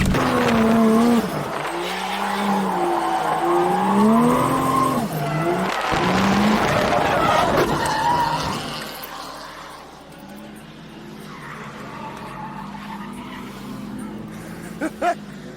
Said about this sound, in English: Cut the footage of me drifting.